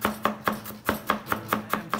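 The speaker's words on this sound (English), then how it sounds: "So you just go ahead and chop." Knife chopping fresh cilantro on a cutting board, a steady series of about nine crisp, close taps at an even rhythm, with no talking.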